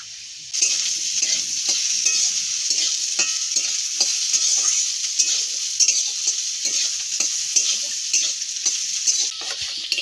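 Potatoes frying in a pan with a little salt, a loud, steady hiss and sizzle of hot oil with repeated scraping stirs, close and without talk.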